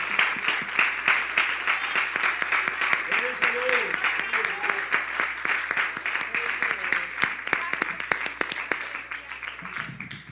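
A church congregation claps for the Lord in honour of visitors during a bilingual service, loud continuous applause with sharp individual claps standing out, sustained throughout with some voices faintly beneath.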